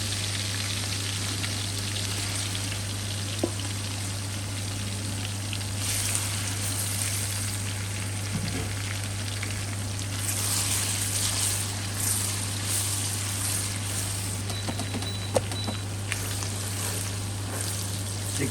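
Chicken frying in oil for fried rice, a continuous soft sizzle over a steady low hum, with occasional faint clinks and no speech.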